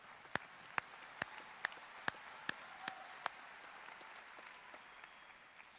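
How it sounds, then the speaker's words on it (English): A single person at a commencement ceremony claps slowly, about eight sharp, evenly spaced claps standing out over quiet room noise, with no crowd joining in. "That's a clap."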